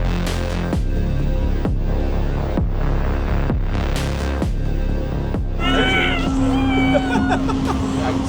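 A cat meows several times in rising and falling cries during a Halloween Horror Nights 2025 haunted attraction, heard over a loud, throbbing, music-like drone that fills the background.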